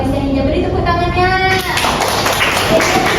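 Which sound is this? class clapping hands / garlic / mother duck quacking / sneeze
class clapping hands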